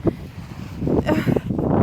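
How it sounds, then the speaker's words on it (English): Gusty wind buffets the microphone in low rumbling bursts, swelling louder toward the end, with no clear voices. "It's very windy, so sorry for the wind."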